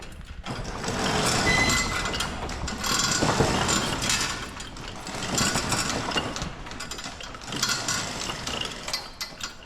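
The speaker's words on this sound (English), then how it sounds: "there's the pump we were talking about. Little old Honda small pump" A small old Honda water pump engine running nearby on a farm, its fast mechanical clatter and rattle varying in loudness over several seconds, with no talk.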